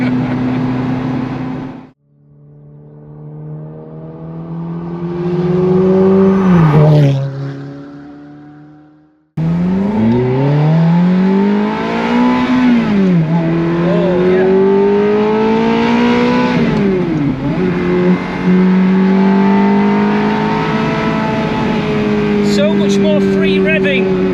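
A Lamborghini Murcielago with 298,000 miles, its engine revving up through the range as the car drives, loud and close from inside the cabin, pitch climbing then dropping at gear changes, with a brief lift-off gap.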